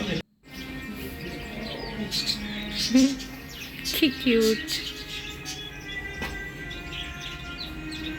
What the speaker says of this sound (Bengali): পাখিগুলো কিচির মিচির কিচির মিচির করতেছিল